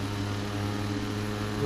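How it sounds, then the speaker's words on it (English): An aircraft's left engine spooling up in FSX, a steady propeller-engine drone with a constant tonal hum that stays even and fairly loud throughout. "Left engine is going."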